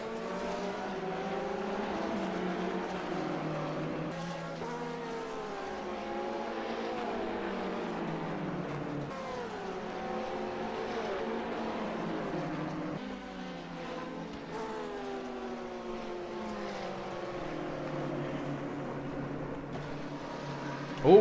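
Sports car engines, including a BMW, race in the World Sports Car Challenge sim-racing series at Road Atlanta. The engines drone and rise and fall in pitch through gear changes as the cars pass, with no talk heard.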